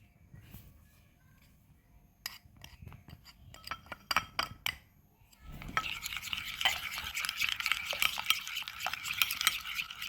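A spoon stirs spices and ginger-garlic paste into yogurt in a bowl for a chicken leg roast marinade, starting with scattered clinks and scrapes, then a steady wet, thick mixing sound that grows louder and continuous.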